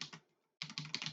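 Quick bursts of computer keyboard typing, a short clicking flurry, a brief pause, then a rapid, close run of keystrokes with no voices.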